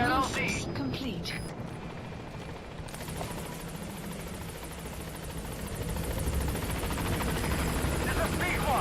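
A support helicopter in the Metal Gear Solid V video game approaches a landing zone, its rotor a steady thudding roar that grows louder toward the end, with radio chatter at the start.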